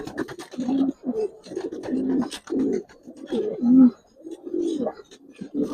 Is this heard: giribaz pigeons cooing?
yes